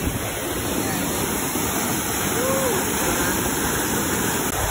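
Lover's Valley waterfall in Pingtung, Taiwan roars as a steady, dense wash of falling water, loud and close throughout with no break.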